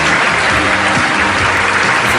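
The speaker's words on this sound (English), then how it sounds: "wasn't expecting anyone to applaud the end of his monologue" Loud, dense audience applause at the end of a TV talk-show host's monologue, steady clapping from a studio crowd throughout.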